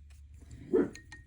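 A single short bark from Daisy, a pet dog, sounds near the middle, fairly close in a quiet indoor room over a low background hum.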